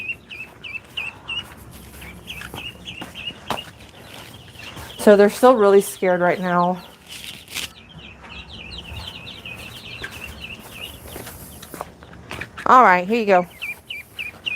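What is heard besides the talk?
baby ducklings peeping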